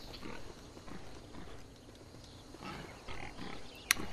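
Pigs in the game Blade & Soul grunt and snort amid a noisy outdoor game ambience, faint and scattered rather than prominent.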